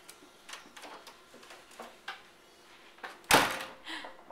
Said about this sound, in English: we closed the door